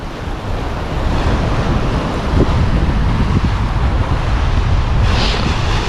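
Ocean surf and gusting wind at the foot of a dangerous sea cliff during chub fishing, a continuous loud roar with wind buffeting the microphone and a brief hiss of breaking water near the end.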